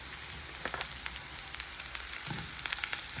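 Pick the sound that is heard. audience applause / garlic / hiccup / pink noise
garlic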